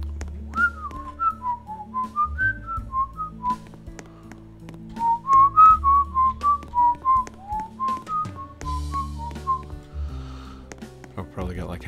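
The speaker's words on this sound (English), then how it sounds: "Does whistling sound bad into the microphone?" A person whistles a wandering melody close to a microphone, a string of clear pitched notes in phrases with short breaths between them, loud and near, over faint background game sounds.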